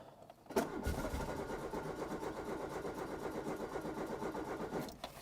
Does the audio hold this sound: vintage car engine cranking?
yes